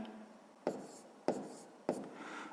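Pen strokes on paper while working a grade 6 fractions problem, three distinct scratchy strokes evenly spaced, close and quiet, with no talking.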